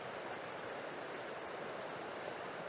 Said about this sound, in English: water movement is surrounding the tree here